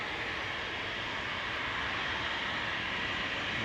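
An EasyJet airliner arriving from the Isle of Man at Manchester Airport gives a continuous broad engine roar, steady and fairly distant, with no voices over it.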